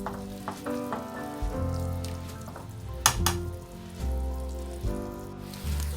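Flour is stirred into hot fat in a pan to make creamed spinach. The mixture sizzles and crackles steadily, with soft scraping strokes and a couple of sharper clinks from the utensil against the pan, and no talking.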